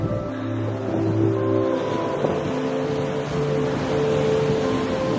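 Wind blows steadily across an open outdoor spot, a loud, constant rushing roar that fills the scene with a low rumble and no talking.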